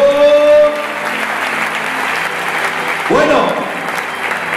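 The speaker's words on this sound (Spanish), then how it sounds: "Denle un fuerte aplauso a los que saben agradecer al Señor." Church congregation applauding at a Spanish-language evangelistic campaign service, loud sustained clapping filling the whole stretch while a voice speaks briefly over it.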